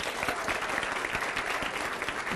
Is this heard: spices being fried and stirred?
no